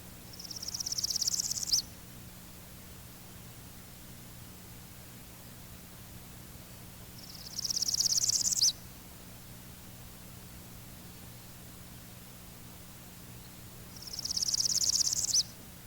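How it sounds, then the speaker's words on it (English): Black-throated green warbler singing its high, buzzy song in three separate bursts of about two seconds each, spaced several seconds apart over a faint steady hiss. "The black-throated green warbler's high-pitched song is traditionally represented as zee-zee-zee-zoo-zee."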